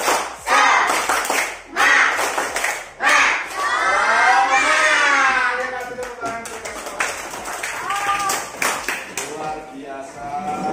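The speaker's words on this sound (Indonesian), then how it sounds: "Tepuk semangat." Primary school children shout and cheer while clapping in rhythm for a spirit clap in a classroom, producing loud bursts of voices with patterned claps and taps beneath them. A teacher's voice can be heard among them.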